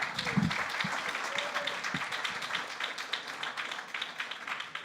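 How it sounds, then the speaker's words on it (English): Applause from a patient-meeting audience after a talk, a steady wash of many hands clapping at moderate distance, with a few brief voice sounds early on. "that deserves an extra round of applause"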